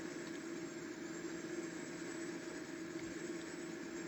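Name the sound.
tractor engine idling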